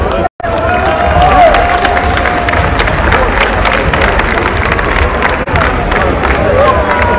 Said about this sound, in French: je voudrais que vous fassiez un tonnerre d'applaudissements